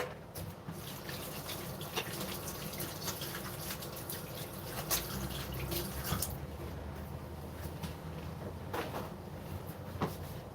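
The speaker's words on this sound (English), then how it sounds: "let me wash my hands" Tap water runs steadily into a kitchen sink while hands are washed, a soft continuous splash broken by scattered clicks and knocks, fairly quiet with no talk.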